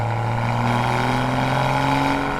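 Toyota Supra engine revving with a steady, loud exhaust drone and bursts of popping and crackling, heard close up and alone without any talk.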